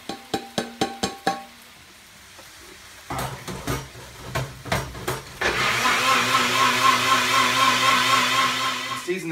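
A NutriBullet blends chicken stock and ancho peppers: a few short pulsing bursts, then a loud continuous motor whir that holds steady to the end.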